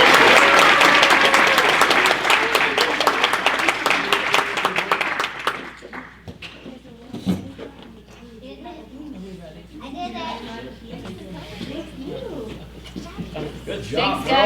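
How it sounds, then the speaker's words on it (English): An audience applauds a kindergarten class with loud, dense clapping for about five seconds. The clapping then fades out, and children's chatter and adult voices carry on over a quieter room. "Can we give the kindergartners a big round of applause?"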